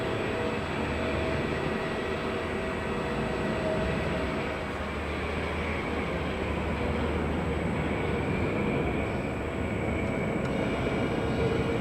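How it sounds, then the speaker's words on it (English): A Megabore PA model lathe runs its variable-speed spindle with a steady, loud mechanical drone and hum that continues alone without a break. "Start the spindle and you can wind the pot up and down and the RPMs will go faster and slower."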